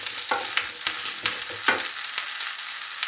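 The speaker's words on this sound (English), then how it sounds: "fry the cauliflower florets lightly" Cauliflower florets fry lightly in a pan for a moong dal and cauliflower soup, a bright sizzle broken by several scraping stir strokes, close and without voices.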